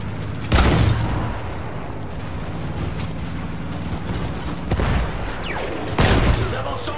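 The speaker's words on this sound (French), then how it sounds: "Ces mitrailleuses empêchent nos gars d'avancer!" Machine gun bursts and booming explosions from the World War I shooter Battlefield 1, a loud continuous battle din with heavy blasts near the start, middle and end over steady rumbling gunfire.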